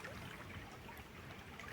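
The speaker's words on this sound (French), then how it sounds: "la rivière qui coule" A flowing river gives a steady, low burbling and trickling wash of water, continuous and fairly faint, with no voices.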